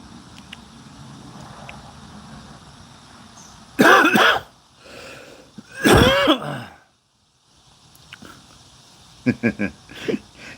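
A man, apparently a smoker, coughs hard in two loud bursts a couple of seconds apart, with throat clearing between them and a few smaller hacks near the end, heard close by on an outdoor walk.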